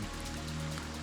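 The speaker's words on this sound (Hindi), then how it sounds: "वो पूरा स्नो मेल्ट हो रही है, जो उसका आवाज़ आ रही है उसी से पानी बह रहा है" Snowmelt water streaming down a mountainside on the Churdhar trek in the Shivalik range, a steady broadband rush of flowing water that stays continuous and close, with a faint low hum beneath and no speech.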